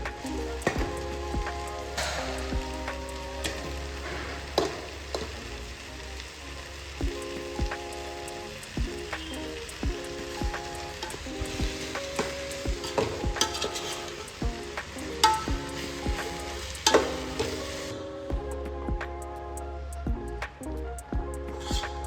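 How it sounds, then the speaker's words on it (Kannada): Onion gravy frying in a pan as cooked rice is stirred in for onion rice, a steady close sizzle with repeated scraping stirs and faint background music, no talking. "ಇವಾಗ ಆನಿಯನ್ ಗ್ರೇವಿ ರೆಡಿ ಆಗಿದೆ. ಇದಕ್ಕೆ ಇವಾಗ ರೈಸ್ ಮಿಕ್ಸ್ ಮಾಡೋದು."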